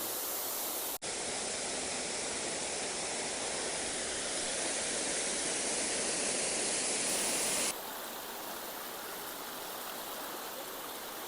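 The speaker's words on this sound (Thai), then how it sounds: "อันนี้มาดูน้ำตกจากอีกมุมหนึ่งนะครับ น้ำตกสีดิบนะครับ" Si Dit waterfall on a Khao Kho nature trail pours in a steady, loud, close roar of rushing water, with a brief dropout near the start and a slightly softer tail.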